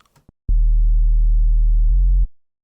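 A deep, steady sub-bass synth tone holds for nearly two seconds, shifts slightly in timbre, then cuts off with a short fade.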